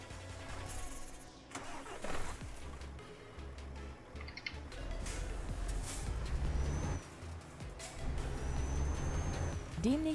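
A heavy truck hauling logs in Euro Truck Simulator 2 starts up with a low rumbling engine, releases hissing air brakes and pulls away, the engine droning louder as it drives off, with someone speaking over it.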